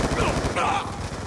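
Rapid gunfire rattles in Black Ops 2, a dense burst of overlapping shots heard close and steady, with game voices mixed in.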